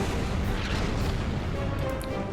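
Artillery fire in the Order of Battle strategy game, a dense booming roar of blasts sustained across the whole short moment, loud and close without pause.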